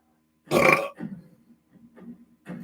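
One loud, deep burp erupts close up, followed by softer throaty rumbles and small noises.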